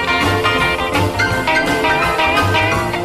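A 1958 rock song plays as a loud, full band recording with driving rhythm and bright guitar, no voices talking over it.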